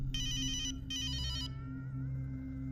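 A telephone rings in two bright electronic trills, each about half a second long with a short gap between them, heard faintly over a low steady hum that continues after the ringing stops.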